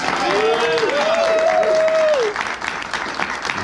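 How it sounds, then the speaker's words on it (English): SeaWorld San Antonio staff applauding at a media announcement, loud sustained clapping from a crowd with a voice calling out over it before the applause thins out. "Give yourselves a round of applause."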